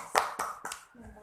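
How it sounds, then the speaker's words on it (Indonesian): Students in a classroom clap three times for their classmates, sharp claps spaced evenly and set against background voices. "silakan beri tepuk tangan buat teman-teman."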